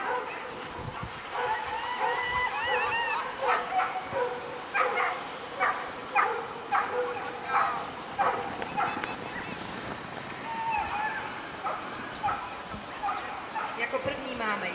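A dog barks repeatedly in a steady series of yips and barks at a moderate distance during an outdoor running race at Lednice, with crowd noise and voices underneath.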